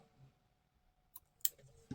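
Scissors snipping yarn while finishing a crocheted granny square doily: a couple of short, crisp clicks close by in a near-silent room, the last one slightly louder.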